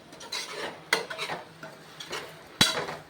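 Chopped banana flower sautéed in oil in a pan for biryani, with a spoon scraping and stirring against the metal in several distinct strokes and soft sizzling between them, close and fairly quiet.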